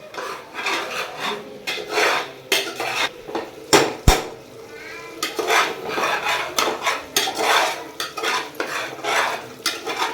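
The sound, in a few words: frying onion, tomato, ginger, garlic, turmeric and chilli in a pan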